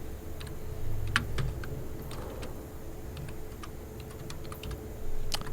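Someone types HTML into Notepad on a computer keyboard. The key clicks are scattered and fairly soft and come in uneven runs, heard alone over a low steady room hum.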